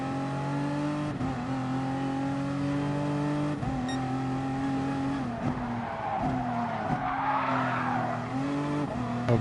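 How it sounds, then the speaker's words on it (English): A race car in Gran Turismo Sport spins its wheels. A steady, loud engine drone shifts pitch while the car accelerates, and a rough tire squeal rises over it toward the end, with no talk. "A little bit of wheel spin there for me."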